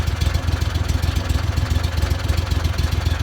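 A Backwater SWOMP 40 mud motor idles at about 900 to 1,000 rpm with its prop in the water, a close, loud, steady low-pitched chugging with an even pulsing rhythm.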